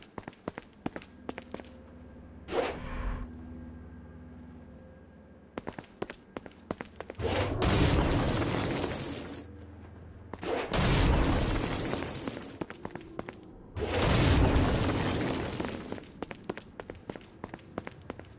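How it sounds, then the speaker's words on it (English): Stone blast attacks boom out in Saints Row: Gat Out of Hell against flying demons, several heavy, rumbling bursts a few seconds apart between quieter stretches of footsteps and small pops. "Stone blast is especially useful on flying demons like this one."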